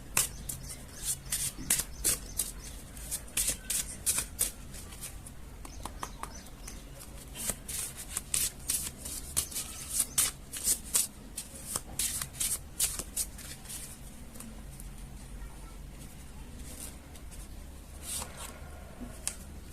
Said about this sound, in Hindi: मैं यहाँ पे डायरेक्टली कार्ड शफल कर रही हूँ अभी तो